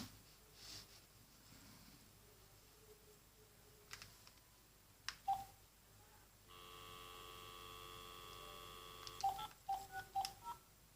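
A telephone number is dialed with touch tones in a quiet room: a few soft clicks, then a long steady tone followed by a quick series of short beeps near the end.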